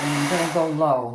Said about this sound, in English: Okay, I have my dryer on cool.